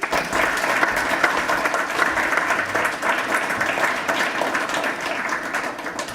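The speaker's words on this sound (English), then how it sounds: "I'd like you all to give each one of them a very hearty round of applause" Sustained hearty applause from an interfaith event audience greeting an introduced faith representative, a full, busy wash of many hands clapping at an even level.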